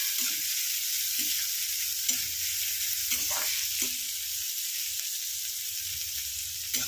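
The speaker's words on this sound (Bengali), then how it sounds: "পেঁয়াজটা ভেজে নিই।" Onion frying in a pan, giving a continuous close sizzle broken by several soft, regularly spaced stirring scrapes, with no voices.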